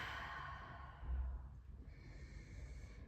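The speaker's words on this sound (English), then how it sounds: "Nice, slow, deep breaths in and out." A long, slow exhale comes close and soft, followed by quieter breathing, as slow deep breaths are taken during a yoga session.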